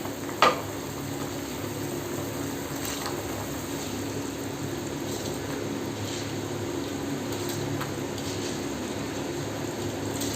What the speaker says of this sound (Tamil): பாருங்கள், தண்ணி நல்லா கொதிக்குது.